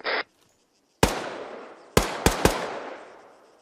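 Four sharp gunshots in the video game OZ Brigade ring out with long echoing tails, following a brief high beep, loud and close with silence in between.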